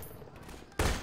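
A single loud, sharp gunshot in Half-Life 2 bursts out near the end as the player fires at a melon, following a short quieter stretch of game ambience.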